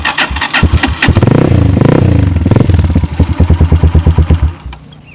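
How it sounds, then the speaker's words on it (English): A motorcycle engine cranks and catches, rumbling loudly and close with rapid firing pulses, then idles in a chugging rhythm before cutting out near the end. "You can clutch in and start your bike."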